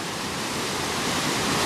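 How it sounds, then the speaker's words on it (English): A swollen creek running high like a river, heard as a dense, steady broadband rush of flowing water, loud and continuous at close range with no voices. "I think we're on the banks of Buckeye River."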